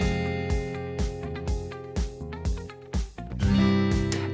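A dry guitar part from the production of a song, played with all effects switched off, sounding as a steady rhythmic pattern of strummed chords at about two per second, up front and alone.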